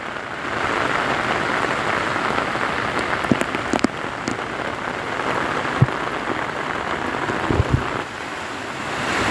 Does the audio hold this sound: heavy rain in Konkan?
yes